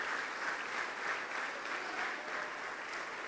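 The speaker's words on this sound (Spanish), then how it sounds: "Dele fuerte las palmas al bendito Señor" A congregation in a church service claps steadily and briskly, a dense, fairly soft wash of applause with a faint rhythmic pulse and no speech.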